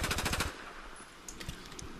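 Fast automatic burst from a Battlefield 4 weapon fitted with a heavy barrel and stubby grip, about eight rapid shots in half a second, then softer scattered impacts and echoes.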